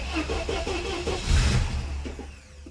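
A classic Saab's starter cranks the engine in a rapid, uneven chugging, then a louder mechanical surge before the cranking fades out.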